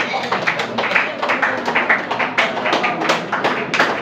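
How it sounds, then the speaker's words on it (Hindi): An audience claps for Fazal sir at a gathering, a dense run of many hands that carries steadily through the whole stretch, close and fairly loud, with murmuring voices underneath. "एक बार जोरदार ताली बजाइए फजल सर के लिए"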